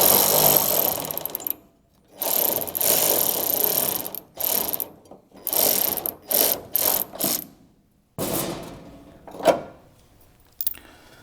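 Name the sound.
ratchet removing bolts on a car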